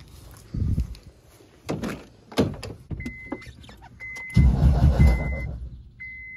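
A Honda Civic EP3 under repair, with no motor mount installed, is cranked over several times in short bursts, then catches and runs briefly with a rough, loud idle and faint high whines.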